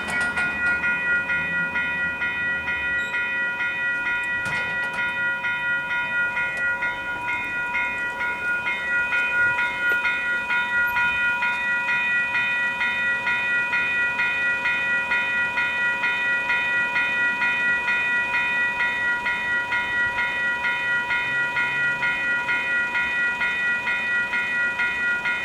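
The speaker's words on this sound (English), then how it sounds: "The train is now making its" A train rumbles steadily through the Blenheim Street level crossing in Upper Hutt, close and loud, with the crossing's alarm bells or warning tones ringing continuously overhead for the whole passage.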